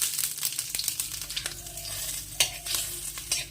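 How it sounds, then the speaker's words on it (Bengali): Dried red chillies, bay leaves and panch phoron sizzle in hot oil in a pan, a steady crackling hiss broken by scattered scraping clicks from stirring. "তেলটা গরম হলে দুটো শুকনো লঙ্কা দিয়ে দিলাম এখন দুটো তেজপাতা দিয়ে দিলাম আর দেবো হাফ চামচ পাঁচফোড়ন"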